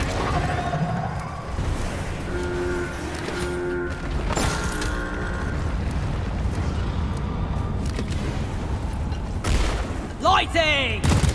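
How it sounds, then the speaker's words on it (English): Cargo rocket launching in the video game Deep Rock Galactic, a sustained roaring rumble with layered booms and tonal mechanical hums, ending in sweeping whooshes as it lifts off. "I have launched the cargo rocket."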